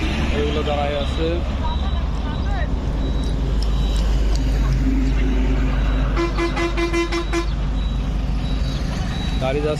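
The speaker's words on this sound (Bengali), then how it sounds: "গাড়ি যাচ্ছে, জ্যাম লেগে গেছে" Road traffic crawling in a jam, with a steady low rumble of engines, repeated horn toots and honks from buses and trucks, and people talking over the din.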